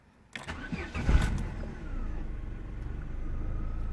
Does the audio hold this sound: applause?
no